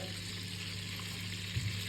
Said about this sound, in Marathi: त्यात काय भांडी घासतो ना